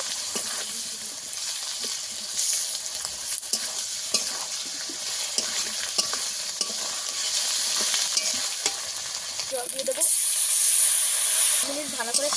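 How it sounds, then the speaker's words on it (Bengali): Ginger paste and chili powder sautéing with fish and fried potato in a pan, a steady sizzle with stirring scrapes throughout and a brief louder hiss of steam near the end. "আদা বাটা দিয়ে দেবো পুরো দিয়ে দেবো লঙ্কার গুঁড়ো সব কিছু একসাথে কষিয়ে নেবো একটু"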